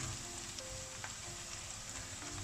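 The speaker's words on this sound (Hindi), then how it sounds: "तो ये जो हमारा अदरक लहसुन है वो फ्राई हो चुका है" Ginger and garlic fry in a pan for an aloo shimla mirch dish, giving a steady, close oil sizzle with faint crackles and no talking.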